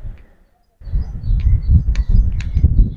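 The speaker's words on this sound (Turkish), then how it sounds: "Yemyeşil, kuş sesleriyle" Birds call with short chirps and coos in green village countryside on a warm, breezy day, the calls scattered over a low rumble of wind and movement.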